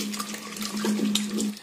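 Drained cooking water is poured into mashed chana dal for kadalai paruppu payasam, making a steady, soft liquid trickle and splash with a low background hum.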